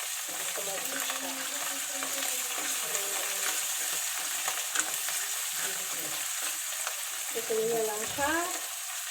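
Mushrooms and garlic sizzle steadily in a frying pan with a bright, constant hiss and occasional stirring, and a voice speaks briefly over the cooking.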